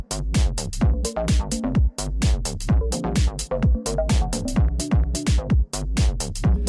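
A music track with a stuttering, chopped effect repeats rapid, punchy synth hits in a busy, loud rhythm with short dropouts, playing alone without talk.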